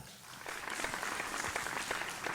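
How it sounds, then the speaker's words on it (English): A studio audience at a vocal competition show applauds, a continuous wash of many hands clapping at moderate distance with no speech over it. "Ladies and gentlemen, another big round of applause, Alan Muller."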